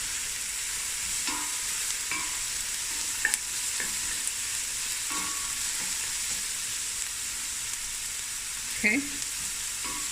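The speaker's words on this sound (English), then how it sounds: "I'm just going to let this fry for about 5 minutes" Onions with a teaspoon of crushed chili frying in a pot for a winter stew, a continuous soft hiss of hot oil with occasional utensil clinks and scrapes as it is stirred; a voice speaks briefly near the start.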